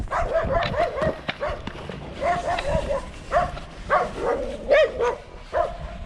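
A small chihuahua barks and yips repeatedly in short, sharp bursts at close range inside a building, with brief whimpering between the barks and no clear speech.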